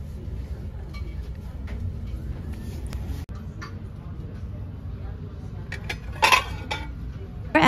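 Ceramic dishes and pots clink and clatter lightly now and then in a Goodwill thrift store dish aisle, over a low, steady store hum. The clinks get louder toward the end, and a voice talks nearby.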